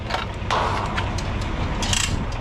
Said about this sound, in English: 50-foot retractable reel hose